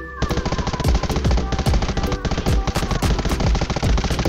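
Rapid, loud gunfire from a shotgun battle in the mobile shooter Undawn, with dense overlapping shots and impacts in continuous bursts throughout.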